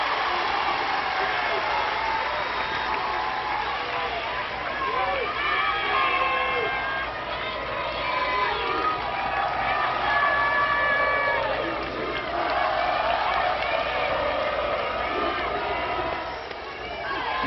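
Large crowd cheering at a college softball game at Hall of Fame Stadium, Oklahoma versus Florida State, a continuous roar with rising shouts and whoops across the stretch, mixed with announcer talk.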